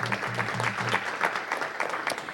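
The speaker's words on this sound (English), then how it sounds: "Everyone give them a round of applause." Steady applause fills a council meeting chamber, a dense continuous patter of many hands clapping throughout, moderately loud with little talk.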